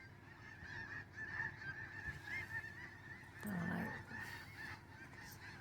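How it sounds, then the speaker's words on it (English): A large flock of cranes calls in flight overhead, a chorus of honking, trumpeting cries that rises and falls and stays fairly distant, with a brief bit of someone talking. "I think that's cranes of some sort."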